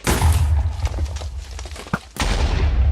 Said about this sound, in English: Next, we have the explode on impact arrow. It does not have a very big explosion at all